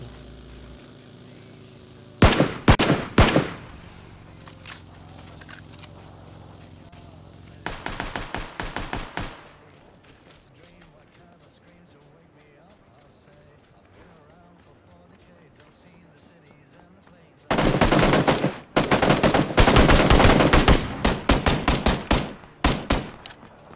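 Suppressed gunfire in a first-person shooter video game, heard as several separate rapid bursts of muffled shots with quiet gaps between them, the longest and loudest burst near the end.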